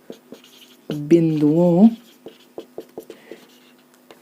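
Chalk or marker taps and short scratches on a board during a Class 12 physics lesson on capacitors, a string of sharp strokes after someone speaks briefly.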